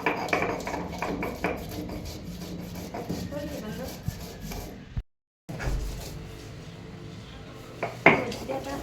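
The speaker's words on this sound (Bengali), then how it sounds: "বেটে নিচ্ছি প্রথমে আদা আর জিরা আদা আর জিরাটা বেটে নিচ্ছি" Ginger and cumin being ground into a spice paste for a prawn dish, likely on a grinding stone, giving repeated scraping, rubbing knocks at close range, with faint speech in places and a brief silent gap midway.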